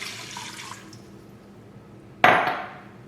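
Water poured into a pot while preparing a steamer setup for seitan, a short splashing pour that starts suddenly and fades away after a faint clink earlier.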